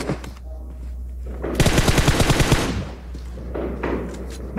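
Rapid automatic gunfire in PUBG, a single close burst of about a second and a half of rat-a-tat shots standing out over quieter game ambience.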